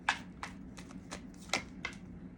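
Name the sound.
shuffling tarot cards to draw a clarifying card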